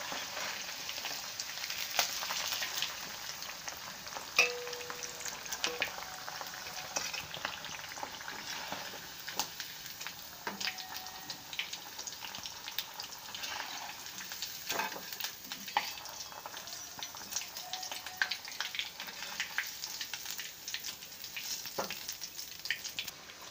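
Potatoes fry in oil in a kadai, giving a steady, close crackling sizzle with scattered sharper pops throughout and no voices.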